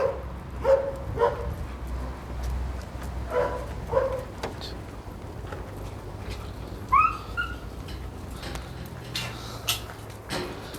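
Dogs barking and yelping during a wolf-and-flock outing in the countryside, a few short barks scattered across the stretch, moderately distant, with birdsong and rural background noise.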